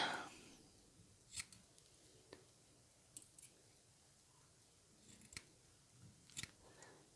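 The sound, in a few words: scissors trimming cotton coil wick on Savour MTL RTA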